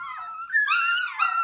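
Schnauzer puppies at a ranch whimper and whine in high, wavering cries, several overlapping close up with short breaks between them.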